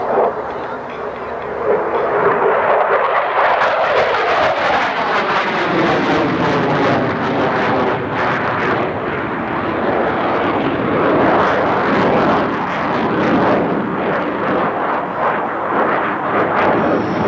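An F-16 Fighting Falcon roars through a double Immelmann at the 1992 Westover airshow, a loud, sustained jet-engine thunder that swells in the first seconds and holds steady, rumbling and roaring throughout with no talk.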